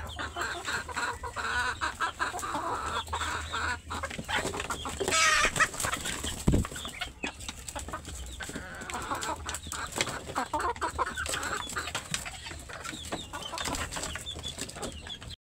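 Native desi chickens cluck steadily and close by, a continuous chorus of soft clucks with occasional louder calls, and no one speaks.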